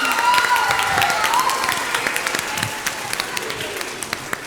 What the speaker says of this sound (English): Give yourselves all a big round of applause